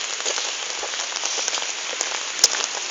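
Steady rain falls through a foggy forest, a dense, even patter close by with a few sharper drop hits, and no voices.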